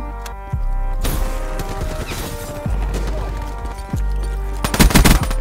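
Video game gunfire: a few loud single shots spaced apart, then a rapid burst near the end, close and punchy over a steady game background.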